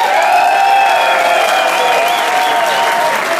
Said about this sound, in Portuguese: eu quero uma grande salva de palmas para o Sr. Neto no baixo,